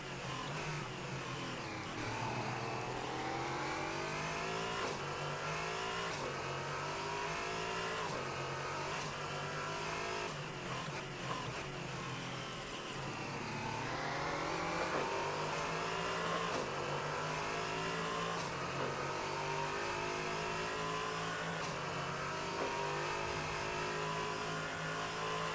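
Race cars lapping Daytona in a sim racing game during a 24-hour endurance event, engines wailing and shifting through gears with repeated revving surges and downshifts, steady and continuous with no talk.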